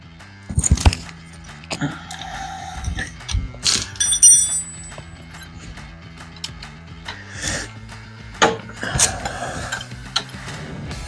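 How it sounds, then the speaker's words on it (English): Metallic clinks, ratcheting and tool rattles come in scattered bursts as a small bolt is worked out of an engine block, close by and with no talking. "we're gonna take one of these smaller bolts out"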